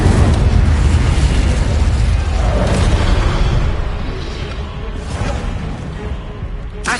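Incendio fire spell blasts in Hogwarts Legacy, a loud roaring burst that rumbles heavily, then eases into a softer crackling tail with a couple of faint sharp flares.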